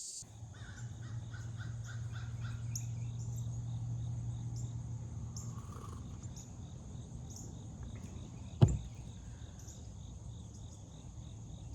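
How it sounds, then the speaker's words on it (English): Birds call outdoors in the morning, with repeated crow caws and scattered chirps over a soft, steady insect hum. The scene is quiet and fairly distant, broken by one sharp knock partway through, and no one speaks. "You can hear the birds chirping"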